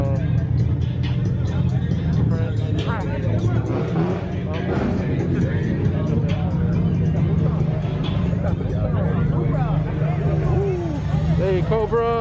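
A Subaru BRZ drives past at a car meet, its engine noise blending into a steady wash of crowd chatter, with nearby voices talking over it throughout.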